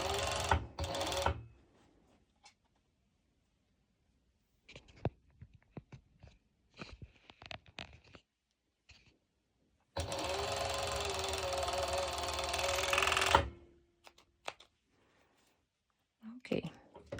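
A sewing machine stitches bikini bottoms with a ruched back in two bursts, a short run at the start and a longer steady whir near the middle, with quiet handling noises and soft talk between.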